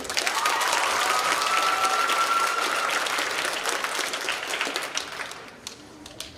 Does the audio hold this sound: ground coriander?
no